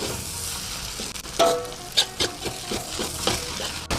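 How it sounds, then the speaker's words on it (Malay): Fried instant noodles are stirred and tossed in a sizzling pan, repeated scraping and clattering strokes over a steady frying hiss, close and clear. "Dan kita kacau, gaul"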